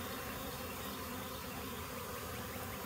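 A honeybee swarm fans its wings at a hive box, making a continuous soft buzzing hum that stays faint and even, with no talking.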